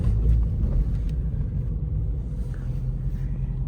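A 2020 Dodge Charger R/T V8 engine under throttle, a deep, steady, fairly loud rumble throughout with no sharp change in pitch, no speech.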